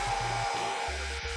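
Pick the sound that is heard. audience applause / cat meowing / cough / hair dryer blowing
hair dryer blowing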